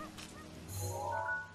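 Geese honk briefly in the Breath of the Wild video game, a faint low honk rising over soft game background sound, short and not far off.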